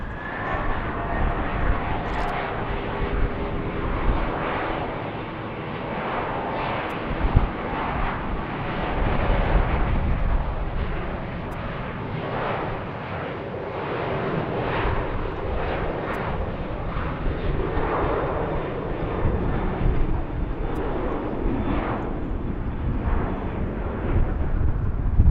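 Airliner engines roar at BWI airport as aircraft taxi and head out to the runway, a loud, continuous rumbling drone that swells and eases over a long stretch, heard from fairly close with no talk on top.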